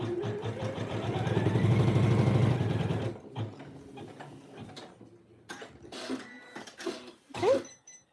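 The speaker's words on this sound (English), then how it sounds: "Now this is going to go back onto the embroidery unit. I'm going to put the foot down, and it's going to stitch out." A sewing machine on its embroidery unit stitches out a placement line in a steady, close mechanical whir for about three seconds, then stops, followed by a few clicks and handling sounds.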